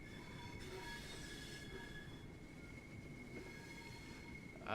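A Southeastern high-speed eight-car train in the Train Sim World video game rolls steadily toward a platform, its continuous low rumble and rail noise carrying faint squealing tones, with a brief louder bump at the very end.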